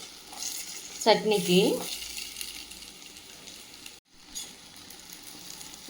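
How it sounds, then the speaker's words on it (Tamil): Chopped tomatoes sizzle and fry in a hot pan for a chutney, a steady close hiss with a burst of stirring noise, briefly under a short spoken word. "தக்காளி நல்லா வதங்கி வரட்டும்"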